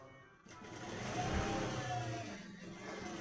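A sewing machine stitches a trouser pocket with a continuous, fairly quiet mechanical whir that starts after a brief pause and runs steadily to the end.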